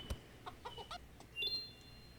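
Scattered short clucks from a few chickens in a ranch farm simulator video game, fairly quiet, with brief higher chirpy tones and a faint electronic background.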